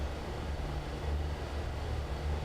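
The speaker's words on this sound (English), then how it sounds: "You know, without a little bit of engine noise." Steady low drone of a light general-aviation aircraft engine heard from inside the cockpit, a constant rumbling hum that stays even and continuous throughout with no talking.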